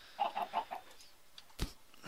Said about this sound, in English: So there's our chickens.